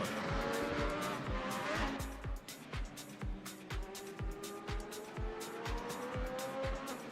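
Race car engine crackling and popping with repeated sharp backfires each time the throttle is lifted, a steady string of loud bangs over continuous engine roar.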